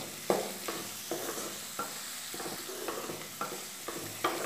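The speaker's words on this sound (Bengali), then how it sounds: "চিনি আর জিরের গুঁড়োটা দিয়ে আবার ভালো মতো নাড়াচাড়া করে দেব" Potato and papaya curry being stirred in a pan after sugar and cumin powder go in, repeated close scraping strokes in a loose rhythm over a soft sizzle.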